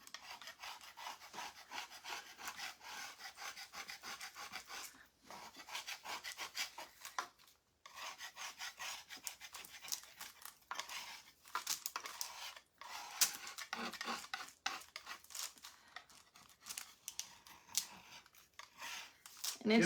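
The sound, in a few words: scraper scraping material off a surface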